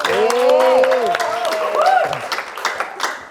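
A comedy roast audience applauds to welcome a dangdut singer, a burst of clapping rising under a speaking voice and continuing after it.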